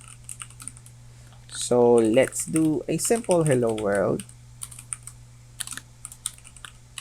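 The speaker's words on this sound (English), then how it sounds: "let's start typing our IDE here, or typing our HTML code here" Light clicking of a computer keyboard taps away steadily, briefly overlapped by someone speaking in the middle, with a low hum underneath.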